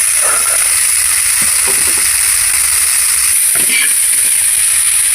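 Boiled green peas sizzle and fry in a pan for an aloo samosa filling, a loud steady hiss with occasional stirring scrapes and no talk.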